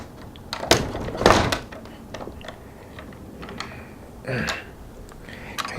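A porch door on a three-season porch is opened and shut, giving a few sharp clunks and rattles close by, with quieter knocks between them.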